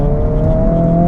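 Honda Civic Type R FL5 accelerating hard out of a corner, a loud, steady engine drone heard close from inside the car for about a second, with no talk.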